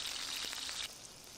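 Butter frying in a pan gives a faint, brief crackling sizzle with a few small pops before it quiets abruptly.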